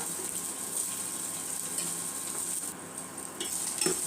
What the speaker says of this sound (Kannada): ಈಗ ಇದು ಈರುಳ್ಳಿ ಸ್ವಲ್ಪ ಎಣ್ಣೆಯಲ್ಲಿ ಸ್ವಲ್ಪ ಹಸಿ ಸ್ಮೆಲ್ ಹೋಗುವವರೆಗೂ ಫ್ರೈ ಆಗಲಿ